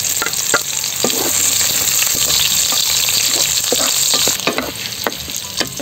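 Ginger chips, garlic and onion sauté for beef pala-pala in hot oil, a loud continuous sizzle broken by sharp clinks and scrapes of a spatula stirring the pan, with no voices.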